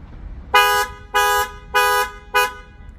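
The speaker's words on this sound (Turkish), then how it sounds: "Orijinal alarmımız." A Ford Transit pickup's original car alarm horn blares four times in an even rhythm, each blast loud, buzzy and roughly a quarter second long, with quiet between.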